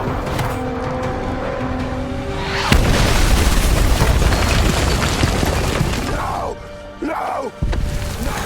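A bomb blast in an action film lands as a sudden deep boom, then a long heavy rumble of collapsing rubble and debris that fades and surges again, with no talk over it.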